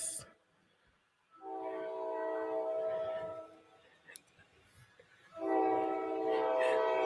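Trains passing through a city on the line to and from New York, a loud, steady rumble that swells in, briefly fades, then surges again close by, with no talk over it.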